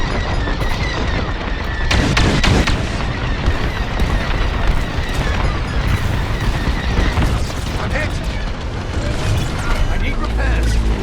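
Starfighter weapons blasting at enemy capital ships in Star Wars Squadrons, a dense, loud barrage of laser fire and booming impacts with engine roar, dialogue voices running underneath.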